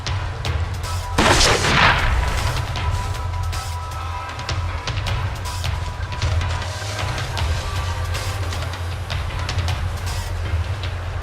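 A grenade goes off in the game We Happy Few, one loud close blast around the one-second mark that rumbles and fades into a steady low background drone.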